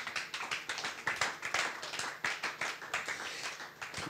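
A church congregation claps together during a sermon on the word of God, a dense run of overlapping hand claps at steady volume with no voices on top.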